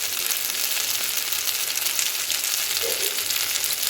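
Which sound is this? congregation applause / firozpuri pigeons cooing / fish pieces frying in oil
fish pieces frying in oil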